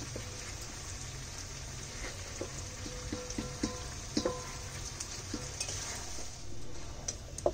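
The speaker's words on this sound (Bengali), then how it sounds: "মাংস কষানো হয়ে গেছে" Chicken feet curry meat with stomach and liver stir-fried in a pan, giving a faint, soft sizzle with scattered light spoon clicks and scrapes at close range; no voices are heard.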